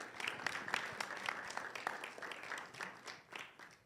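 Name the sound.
audience applause welcoming a speaker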